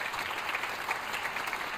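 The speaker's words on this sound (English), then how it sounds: "So let's give them a round of applause." Audience applause at a school eighth-grade orientation, a dense, steady wash of clapping from a crowd, even and continuous without a voice over it.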